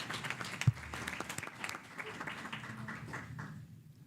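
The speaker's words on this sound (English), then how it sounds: "Give them a round of applause" Round of applause from attendees at a school board meeting, soft and somewhat distant scattered clapping with faint crowd murmur beneath, fading out near the end.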